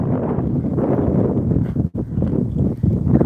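Wind blows across the microphone outdoors in a suburban garden, a loud, rough, steady rumble with one brief lull midway.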